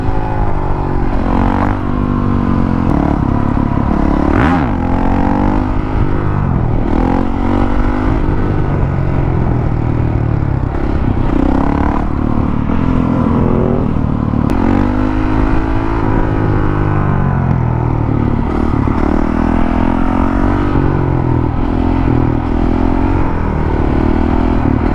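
A Honda CRF450L motorcycle engine revs repeatedly in a lot during wheelie practice, its pitch rising and falling in loud, close sweeps over a steady roar across the whole stretch.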